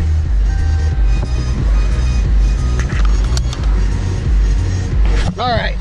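Loud exhaust roar from a 2017 Dodge Charger Daytona with the mid muffler deleted, a steady rumble heard from inside the car, with brief squeaks near the end.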